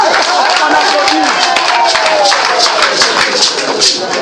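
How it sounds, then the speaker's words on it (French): Crowd applauding at an outdoor political rally in Gabiadji, Ivory Coast, in honor of cocoa planters; loud, close, continuous clapping with a murmur of voices mixed in, steady from start to finish. "On applaudit."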